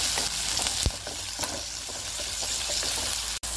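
Chopped tomato sautéing in a hot pan, a close, continuous sizzle with occasional spoon scrapes and one sharp knock, for a snake gourd kootu.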